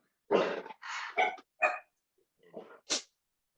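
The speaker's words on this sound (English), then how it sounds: "Excuse my dog." A dog barks several times close by in a home during a meeting, a run of loud, uneven barks and yips separated by short pauses, with no one talking.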